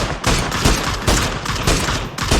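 Rapid, loud gunfire in PUBG striking the player at close range, a dense stream of bursting shots with brief gaps between volleys.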